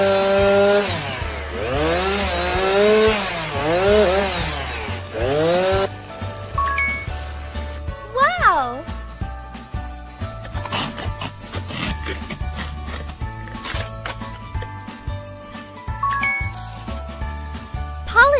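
Shape cutting in a Christmas makeover game for kids plays as a run of cartoonish rasping, scraping effects with bright chiming tones and pitch sweeps, over steady background music.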